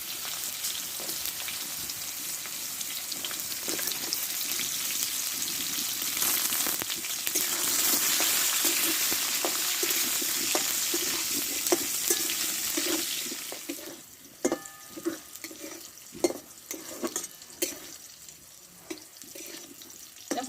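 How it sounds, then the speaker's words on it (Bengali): Pointed gourd frying in oil with turmeric powder and a pinch of salt, a loud, dense, continuous sizzle that fades after about fourteen seconds into quieter crackling and spatula taps, no voices. "এবার তেলে একটু আমি দেব হলুদ গুঁড়ো আর এক চিমটে লবণ দিয়ে পটলটা ভালো করে আমি আগে কষে নেবো"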